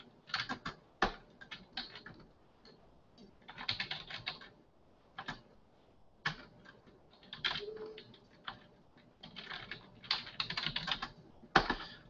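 Someone types on a computer keyboard in irregular bursts of quick clicking separated by short pauses. The keystrokes are faint and close, with no speech.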